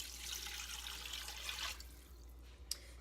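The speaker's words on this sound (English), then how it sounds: "I'm going to add enough water" Water poured from a tap into a pot over a leftover turkey carcass, a faint steady splashing hiss that tapers off into a few soft drips.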